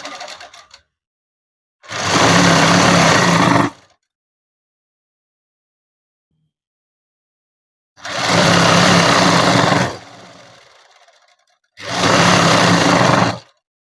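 A sewing machine stitches a joint on cloth in three loud, steady bursts of motor whirring, each about two seconds long, separated by silence.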